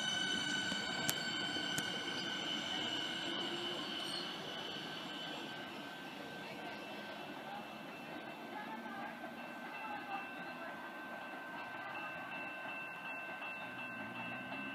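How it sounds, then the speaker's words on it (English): A Siemens suburban electric train pulls out of Seaford station on the Melbourne rail network, a steady rolling rumble and faint whine heard from the platform, fairly quiet and sustained throughout. "Siemens is now departing."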